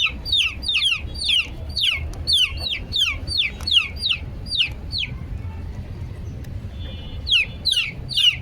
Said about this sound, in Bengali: আসিল মুরগির বাচ্চা একটু চিল্লা চিল্লাফাল্লা বেশিই করে